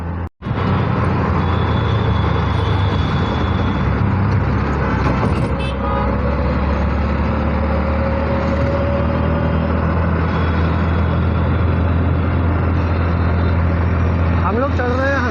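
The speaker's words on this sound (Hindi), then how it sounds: "शाम के समय ट्रैफिक भी बहुत ज़्यादा आ जाता है, लोग हॉर्न वगैरह बहुत ज़्यादा बजाते हैं" Dense evening street traffic in Delhi's Chawri Bazar area roars steadily and loudly, a constant wash of engines with occasional faint horn tones mixed in.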